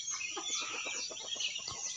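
Chickens cluck in a loose, repeated series at a morning feeding, soft and fairly close, with faint bird chirps mixed in and no talking.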